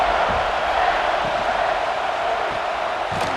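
Stadium crowd roaring in the video game College Football 26 during an Arkansas versus Tennessee matchup, a dense, continuous wash of noise with a few faint thuds, loud and even throughout.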